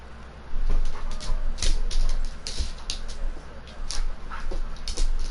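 Pet dogs whimpering close by in a room: a string of high, thin whines and yips that come and go over several seconds, with a low steady hum underneath.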